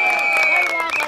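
Applause for Ravi Kant Gupta at a celebratory gathering, a short burst of clapping from the crowd over a steady sustained tone.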